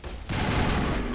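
A loud burst of rapid gunfire from a weapon in the Mass Effect video game, sustained and dense right up close.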